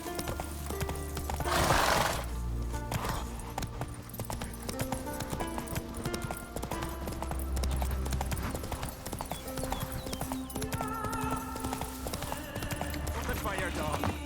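A horse in The Witcher 3 game clip-clops at a steady gallop with an occasional whinny, hoofbeats running under in-game voices and music throughout.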